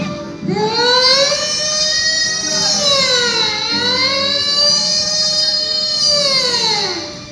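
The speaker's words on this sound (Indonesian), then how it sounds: "Mobil ambulan datang tiba-tiba mendekati Ibrahim" A loud ambulance siren wailing up and down in long, rising and falling sweeps, close by and continuous.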